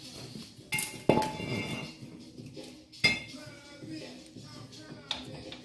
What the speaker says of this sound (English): Pull the rotor off.